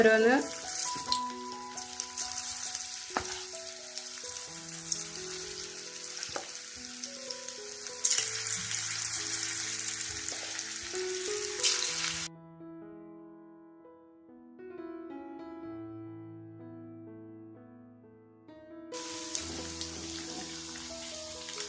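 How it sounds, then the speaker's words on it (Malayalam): Cubes of paneer tikka shallow frying in rice bran oil give off a steady sizzle with crackling spatter, louder at first and then quieter while a soft melodic tune plays over it. "ഡീപ് ഫ്രൈ ചെയ്യേണ്ടത് ഷാലോ ഫ്രൈ ചെയ്തെടുത്താൽ മതി"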